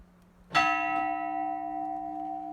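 A single church bell, one of three poorly tuned bells, strikes once, loud and close, leaving a long ringing hum that slowly fades.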